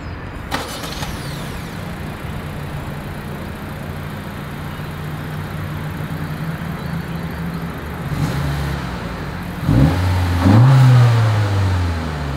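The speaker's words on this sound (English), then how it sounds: "As always, here is that exhaust clip." Exhaust of a 2023 Honda CR-V idles steadily at close range, then swells into a couple of rising revs near the end, with no talk.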